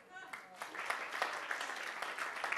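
Audience at a UN oceans session event claps in a scattered, moderately loud burst that builds slightly and continues steadily, a dense patter of many hands.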